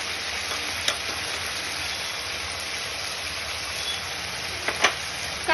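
Cashew and poppy seed paste sizzles in a pan with cooked tomato, ginger and ground spices for a vegetarian potato curry, a soft, steady frying hiss with a few faint stirring clicks.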